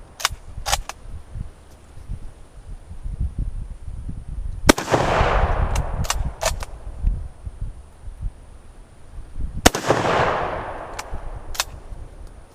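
No4 Mk1 Enfield rifle fired outdoors, two loud sharp cracks a few seconds apart, each followed by a rolling echo, with fainter clicks and handling noises between shots.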